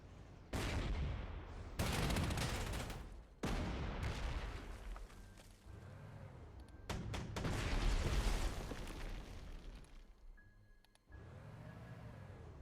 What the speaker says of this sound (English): It's attacked by the anti-aircraft gun, but so what?